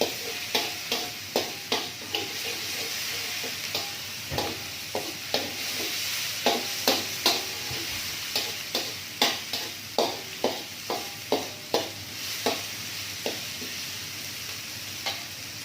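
Ground spice paste being stirred in hot oil for fried rice, with a steady frying sizzle beneath repeated scraping stirs that come in a quick, irregular rhythm, close and clear with no talking.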